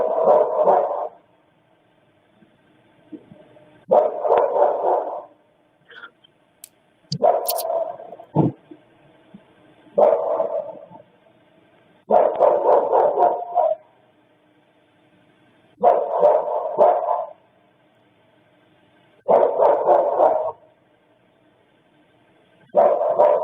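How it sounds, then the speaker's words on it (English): A dog barks in repeated bursts of several sharp barks each, separated by short quiet gaps, loud and close with a high-pitched edge. "we're gonna listen to dogs barking,"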